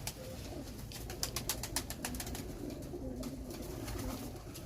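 Breeder pigeons in a Faisalabad loft coo softly and repeatedly, a low, quiet murmur with a few brief sharper sounds mixed in, and no one speaking.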